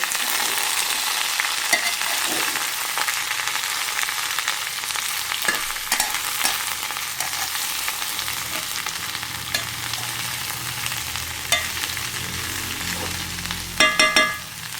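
Ivy gourd thoran frying in a pan, a steady close sizzle with a spoon scraping and stirring through the mixture, ending in a few sharper clinks against the pan, with no voices.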